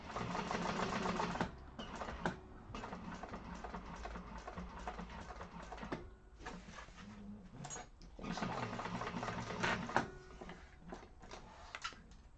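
A sewing machine runs in long, steady bursts while top stitching down the side of a handbag. Brief pauses break the dense mechanical whirring, and it is heard close up with no talk.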